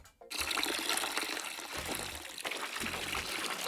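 Liquid poured steadily from one vessel into a brew pot during home beer brewing, a continuous splashing, gurgling pour lasting several seconds, fairly close and alone.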